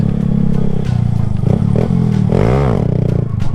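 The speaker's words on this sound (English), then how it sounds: "Let's get one last wheelie in" A stunt motorcycle's engine revs loudly and close, its pitch surging and dropping as the rider pulls a wheelie, with clattering and scraping mixed into the steady mechanical drone.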